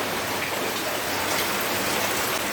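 Steady, dense rain pouring down on a village house, a continuous hiss of drops hitting surfaces with no pauses.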